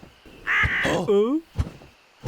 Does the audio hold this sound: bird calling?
yes